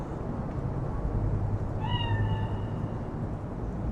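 A cat in the video game Cyberpunk 2077 gives a single clear, drawn-out meow midway through, heard over a steady low game ambience with no talking.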